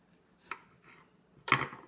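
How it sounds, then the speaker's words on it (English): Fresh strawberries being sliced on a cutting board, two distinct knife cuts, the second louder and sharper, close up with no talking. "I have just a couple extra strawberries here and I am slicing them"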